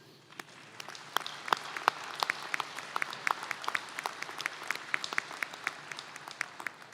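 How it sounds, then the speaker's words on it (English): Applause from an audience at a fall nursing and health professions college commencement, scattered individual claps rising into steady moderate clapping that carries on throughout with no talk over it. "Let us applaud you."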